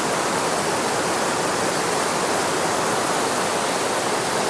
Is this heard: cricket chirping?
no